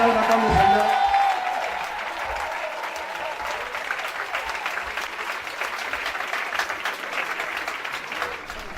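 A church congregation applauds the Lord in sustained, dense clapping that fills the room, starting loud and staying steady, with a voice heard briefly over the crowd at the start.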